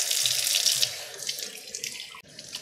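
Water runs from a kitchen tap into a sink while raw fish is rinsed for frying, splashing loudly at first, then quieter and uneven as the flow is broken, with a brief click near the end.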